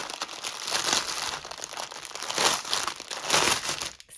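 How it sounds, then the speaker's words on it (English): Plastic packaging from a Diamond Dotz diamond painting kit crinkles and rustles continuously up close, a steady crackling handling sound with no talking. "Excuse the crinkling."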